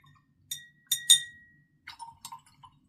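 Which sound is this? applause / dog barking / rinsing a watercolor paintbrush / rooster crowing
rinsing a watercolor paintbrush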